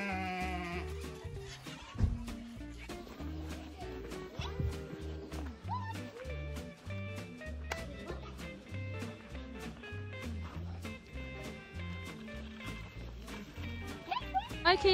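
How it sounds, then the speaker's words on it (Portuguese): Sheep being herded on a Brazilian farm bleat repeatedly, several overlapping calls near and far, while people talk over them throughout. "o primo hoje tá vindo tocando os carneirinhos"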